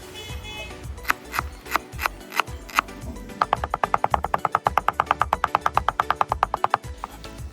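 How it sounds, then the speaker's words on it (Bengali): A knife chops onion finely on a board for palak paneer, first a few slow spaced strokes, then a fast, steady run of crisp, close taps. "এখন আমরা কেটে নেব পেঁয়াজ পেঁয়াজটাকে একদম কুচি কুচি করে কেটে নিতে হবে"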